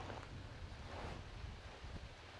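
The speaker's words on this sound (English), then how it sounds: "Wind's blowing a little strong out of the north" Strong wind out of the north gusts across an open outdoor spot, a soft, steady rush of breathy noise buffeting the microphone, fairly faint and without voices.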